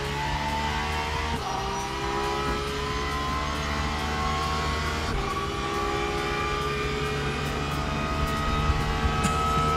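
A Porsche race car engine roars steadily in a racing video game, a loud, sustained drone with rising harmonic whine as it accelerates and shifts, continuous throughout with no talking.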